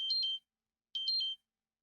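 A timer alarm near a mining computer setup gives two separate electronic beeps about a second apart, thin and high-pitched, with silence around them.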